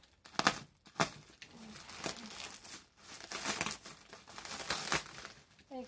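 Bubble wrap with tape on it is handled and pulled apart during a doll box unboxing, giving close, loud crinkling and crumpling with sharp tearing bursts over the whole stretch and no voice.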